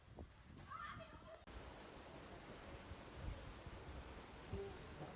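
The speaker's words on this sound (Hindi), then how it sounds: "ये जो रात की बारिश है ना," Night rain falling steadily as a soft, continuous hiss, moderately close and even throughout, with a brief quieter stretch of other sound at the very start before the downpour fills the scene.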